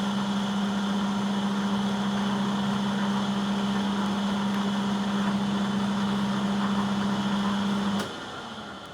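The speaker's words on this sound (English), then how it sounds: "I'm just going to start the machine and then we'll change over to a hand tap and finish it off" A machine drives a tap to cut a thread in metal for a baby gate repair, giving a steady, moderately quiet motor hum that runs without change for about eight seconds before it stops abruptly, with no voices.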